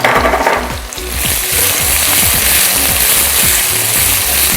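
Lengthwise sliced onions frying in a pan with oil, a loud, dense sizzle that surges as they go in, with stirring scrapes, then a steady close crackle and no voices.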